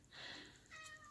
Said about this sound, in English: Oh, my kitten.